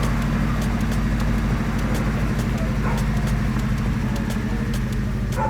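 Restored 1969 Ford Escort Mk1 fitted with a Toyota 4AG 16-valve twin cam engine, idling with a steady low rumble and even pulsing exhaust, close by, with no talk.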